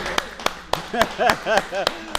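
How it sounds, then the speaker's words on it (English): A few sparse, sharp claps ring out near the mic in a studio interview setting, spaced irregularly while a voice talks over and between them. "Let us all give a round of applause to Big Gipp, leader of the Mutants, baby."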